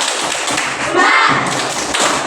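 Children in an Islamic religious education class doing a rhythmic clap-and-chant routine, sharp taps and thuds in a quick pattern, with kids' voices shouting along close by.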